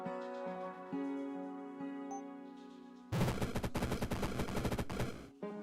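Blood bolts are shot in a video game, producing a rapid burst of crackling gunfire-like impacts that cuts in sharply over a sustained musical tone and then stops.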